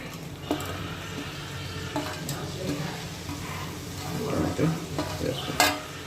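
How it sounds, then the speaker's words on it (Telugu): Tomatoes sizzle in frying masala for a dry fish and egg curry while a spoon stirs and scrapes the pan, heard as a close, steady crackle with irregular clinks and a few louder scrapes. "ఇప్పుడు దీనిలో టమాటా వేసుకోవాలి"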